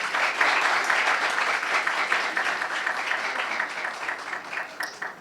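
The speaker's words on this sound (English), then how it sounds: "Huge round of applause for them." Sustained applause from an audience at a training course closing ceremony, steady dense clapping that gradually thins toward the end, heard alone without talk.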